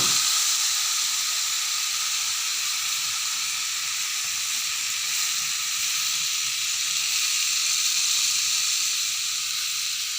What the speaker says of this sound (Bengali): তো এখন আমি এতে দিয়ে দিচ্ছি এই যে মশলা ধোয়া জল।